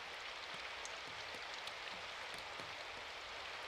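Steady rain falls in a soft, continuous hiss with faint scattered droplet patters, quiet and even throughout, no voices.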